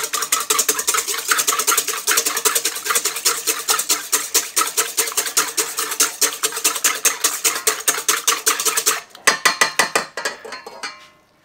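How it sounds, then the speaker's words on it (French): Egg whites whisked briskly in a bowl, a fast, even rhythm of metallic clicks and scrapes lasting about nine seconds, close and loud, then a few slower, separate strokes before it stops. "On va fouetter."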